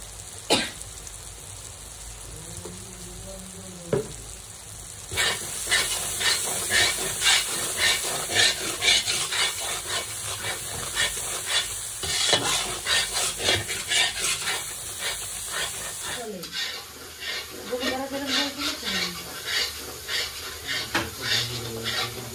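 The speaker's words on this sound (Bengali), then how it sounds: "মশলা কষানো হয়ে গেছে" Spices for a meat curry sizzling in a pan while being stirred, with rhythmic scraping and clinking of the spoon against the pan over a steady fry hiss, broken by a few coughs and throat clearing.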